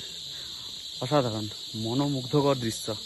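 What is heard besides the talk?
crickets chirping in hill forest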